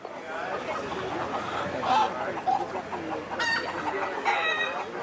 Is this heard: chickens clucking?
yes